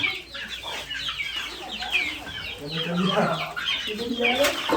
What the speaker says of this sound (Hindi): बतखें भी हैं, मुर्गियाँ भी हैं।